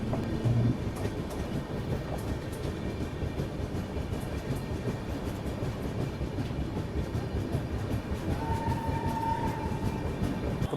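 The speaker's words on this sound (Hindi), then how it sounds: "और इसी खूबसूरत शाम के बीच अपना अराइवल हो रहा है सासाराम जंक्शन रेलवे स्टेशन पे।" A Visakhapatnam Express train rolls into Sasaram Junction railway station in the evening, a continuous heavy rumble of wheels and carriages with a thin drawn-out squeal near the end, close and steady, no voices.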